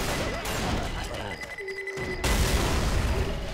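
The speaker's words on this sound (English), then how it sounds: "Throwing a pipe bomb!" Pipe bomb in Left 4 Dead 2 going off, a cluster of booming, gunfire-like blasts across a chaotic game mix, with a brief dip and beeping tone before a loud final burst.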